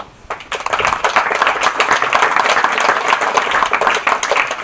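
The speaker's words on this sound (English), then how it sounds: "In 4th place today, big round of applause for Mr." Applause for the fourth-place finisher at a prone rifle shooting elimination match, starting abruptly and holding as brisk, close clapping from a modest crowd.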